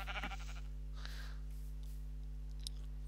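Short sheep bleats from Minecraft open the clip, then fade into near silence over a steady low electrical hum, with a faint click later.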